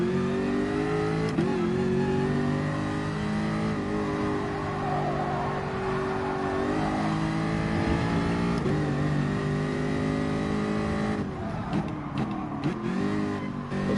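Race car engine in GT Sport heading out for a warm-up lap, revving and shifting through gears with rising and falling pitch, loud and up close, with occasional tire noise toward the end.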